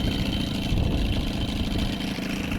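An old boat's outboard engine, running with the choke on, idles in forward gear. The motor makes a close, steady, throaty rumble with slight rises and falls in pitch, and nobody speaks.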